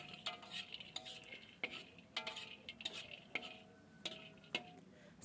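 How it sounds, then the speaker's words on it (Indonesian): Candlenuts are dry-roasted in a pan, stirred with sharp, intermittent scrapes and clicks of a utensil against the metal over a quiet background, with no voices. "Sekarang kita sangrai dulu ya kemirinya supaya aroma kemirinya lebih keluar saat nanti dihaluskan."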